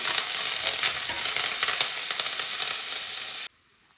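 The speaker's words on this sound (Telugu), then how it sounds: "మనం దంచి పెట్టుకున్నటువంటి వెల్లుల్లి, కరివేపాకు వేసుకొని కొంచెం ఫ్రై చేసుకోవాలి" Crushed garlic and curry leaves fry in a pan, giving a loud, dense, continuous sizzle that cuts off suddenly before the end.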